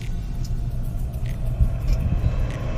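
A solar-powered mini camper from 2011 runs at idle just after starting, its low rumbling motor steady and close, with light rattles and clicks on top.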